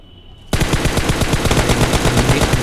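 Rapid automatic gunfire in a mobile shooter video game, starting abruptly after a short quiet lead-in and continuing as dense, loud, steady bursts with no talk.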